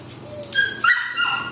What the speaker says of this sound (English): we apologize for the background dog